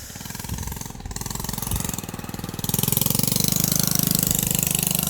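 A motorcycle engine putters past at close range, a rapid pulsing mechanical chug that grows louder and steadier partway through, heard alone without speech.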